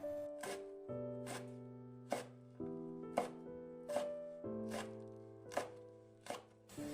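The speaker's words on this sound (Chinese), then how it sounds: "斜刀切成片。" Knife chopping ginger and slicing chili peppers on a cutting board, about a dozen crisp, evenly spaced cuts sounding close and alone over a steady tonal background hum.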